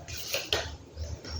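Hardener being stirred quickly into a putty mix for a mezzanine floor, with a couple of sharp scraping clinks of the mixing tool against the container, close and fairly quiet.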